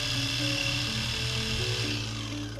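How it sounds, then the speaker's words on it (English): A Sawzall reciprocating saw cuts through a PVC irrigation pipe in a short, steady, buzzing whine with a grinding edge, loud and close with no talk. "I'll cut out a section using a Sawzall."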